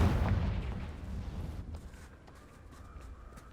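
Confringo spell blast in the Hogwarts Legacy video game: a loud booming explosion that fades into a lingering rumble and thin ringing tail, heard alone.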